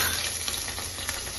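Spices sautéing with asafoetida in a hot pan, a steady close sizzle with faint crackles throughout the short moment.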